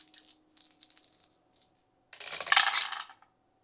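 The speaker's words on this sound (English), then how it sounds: "So he's rolling 3 dice against Barathor." Three dice rolled during a Kingdom Death: Monster board game session: a few faint clicks first, then one loud, close clattering rattle as the dice tumble and settle on the table.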